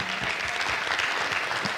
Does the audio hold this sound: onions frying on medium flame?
no